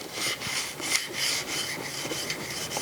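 Spokeshave blade back rubbed on a fine sharpening stone to break the burr, a steady rhythmic scraping of quick back-and-forth strokes, close and moderately loud.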